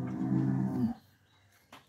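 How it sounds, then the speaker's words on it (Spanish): A bull bellowing close by, one loud, deep, harmonically rich bellow held for almost a second before cutting off, followed by quiet and a short faint noise, with no talking. "Aquí está el toro bramón, mira. Está puro brame, brame."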